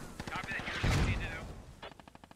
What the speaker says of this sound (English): Mortar right on top of your own position just about.